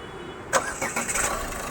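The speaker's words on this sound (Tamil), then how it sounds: "ஸ்டார்ட் பண்ணுங்கள் சார்" A Ford EcoSport being evaluated in Chennai cranks and starts, a short burst of starter noise settling into a running engine, heard close and alone.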